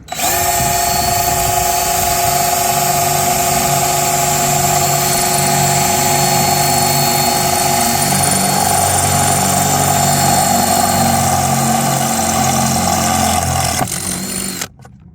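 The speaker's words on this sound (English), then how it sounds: "Put a little lubrication on the drill bit, and let's see how this bit does" An electric drill with a lubricated bit whines continuously at high speed for about fifteen seconds drilling through a board on a sailboat bimini, loud and close, then stops abruptly.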